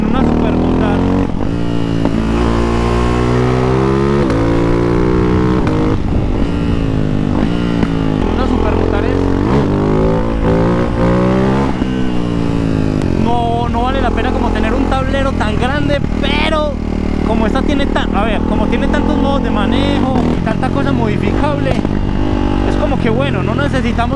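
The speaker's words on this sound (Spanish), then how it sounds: "empiezo a soltar el clutch y escuchen, ella se va acelerando" A Ducati Hypermotard 698 Mono single-cylinder supermoto engine pulls away, its loud, close exhaust rising and falling through repeated revving sweeps as the bike accelerates, with someone talking over it.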